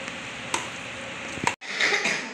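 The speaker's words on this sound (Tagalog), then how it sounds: "Halo-halo lang para magpantay ang kulay niya." Creamy spaghetti sauce stirred in a pan, a steady soft scraping and gentle sizzle with a couple of sharp utensil knocks against the pan and a brief dropout before the stirring resumes.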